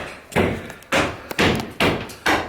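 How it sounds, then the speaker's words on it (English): House demolition with stone being removed sends out five heavy, evenly spaced thuds, loud and booming, with no talk over them. "Demolition has begun."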